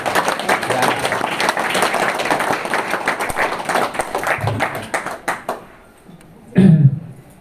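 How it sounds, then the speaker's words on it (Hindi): Applause from an audience, a dense run of hand clapping lasting several seconds before dying away, followed by a brief low sound near the end. "जो नहीं आए उनके लिए भी ताली।"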